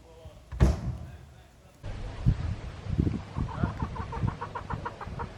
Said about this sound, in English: I think it's time to see which one can film a chicken better on a farm.